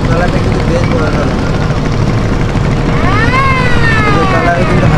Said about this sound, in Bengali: এদিক থেকে কিন্তু একটা ট্রলার আসছে, ট্রলারটা কিন্তু বেশ বড় ট্রলার।